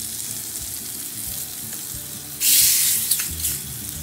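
Hot asafoetida tempering poured over chow chow poricha kootu: a steady low frying hiss, then a sudden loud burst of sizzling midway that crackles and slowly fades, close by with no talk.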